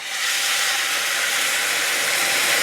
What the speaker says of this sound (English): It lets off a lot of steam